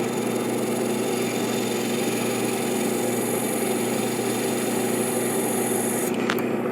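A wood lathe spinning a bowl blank, giving a steady, loud motor hum with a constant drone and no pauses, cut by a brief scrape just before the end.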